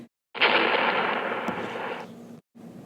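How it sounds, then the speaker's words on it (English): A grenade explosion effect in a Civil War radio drama: one loud, sustained blast with a roaring, broadband rumble lasting about two seconds, then a brief silence and a quieter trailing sound. "The kid just threw a grenade at some people behind me."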